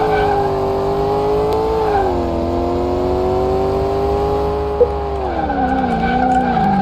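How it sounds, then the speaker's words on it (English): A Chevy Astro van accelerating on a track in the driving game Car Mechanic Simulator, its loud engine droning continuously and shifting pitch through gears, with tire squeal, alone without talk. "So we're going to start with an acceleration test."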